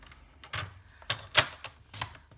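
A paper trimmer slices cardstock for a small card banner, giving four short, sharp cutting strokes with brief quiet gaps between them, close and crisp.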